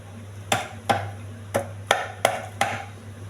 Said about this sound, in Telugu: వెల్లుల్లిపాయలు కొంచెం ఒక్క ముక్క దంచుకోవాలి.